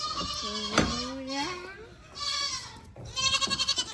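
Several goats bleat loudly and repeatedly as they are let out of their pen, wavering cries overlapping close by, with voices of people and children mixed in.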